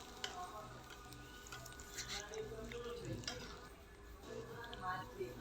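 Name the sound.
green chilli, onion and garlic stirred with spatula in pan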